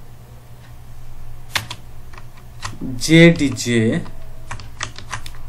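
Quick bursts of typing on a computer keyboard while entering text in MS Word, a clustered run of clicking keystrokes between pauses, with someone speaking Bengali over and around the keys.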